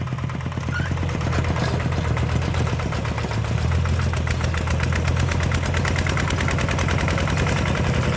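A small ET11 walk-behind tractor engine revving steadily and loudly nearby, a constant throbbing chug that holds without pause throughout.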